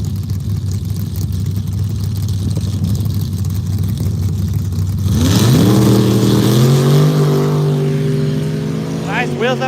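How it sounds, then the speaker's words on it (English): A sand drag race car launches with its front wheels up at a sand drags event, the engine idling and then surging into a loud, rising roar that climbs steadily in pitch, close by and heard alone. "Nice wheels up charge for Parker."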